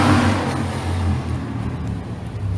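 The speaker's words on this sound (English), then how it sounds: "Listen to that car" A car passes close by at night, its engine giving a loud, steady roar with a slight rev that holds for a few seconds with no talking.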